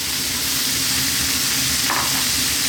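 Cold basmati rice stir-fried on high heat in a pan for fried rice gives a loud, steady sizzle with a soft scraping swish as it is kept moving, and no one talks.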